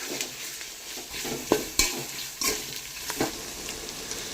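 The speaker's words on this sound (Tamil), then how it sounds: "அம்மியில் இடித்து வச்சிருக்கிற பூண்டை ஆட் பண்ணி நல்லா கிளறி விட்டுக்கலாம்." Crushed garlic, pounded on a grinding stone, stirred and sautéed in a pan for village-style mutton kuzhambu, a steady sizzle punctuated by several sharp spoon scrapes and knocks against the pan, close and alone.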